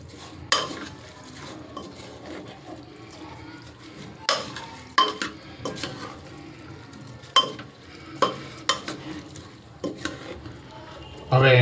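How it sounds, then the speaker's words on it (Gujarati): Soaked lentils and rice stirred together with vegetables in a pot for a green pigeon pea khichdi, with repeated sharp scrapes and clanks of a spoon against the pot over a soft sizzle, coming in irregular strokes. "હવે આને પહેલાં આ શાકભાજી સાથે હું બરાબર મિક્સ કરી લઈશ."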